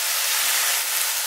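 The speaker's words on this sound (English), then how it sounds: "As you can see, I'm cooking it in this copper pan" Ground turkey sizzling and frying in a Red Copper nonstick pan, a steady dense crackle of hot liquid close by and fairly loud, with faint stirring scrapes throughout.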